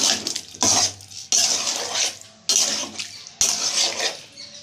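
Cauliflower and prawn curry with potatoes stirred in a pan, several separate bursts of wet scraping and clattering, each starting sharply and fading, close by with short pauses between, no voices.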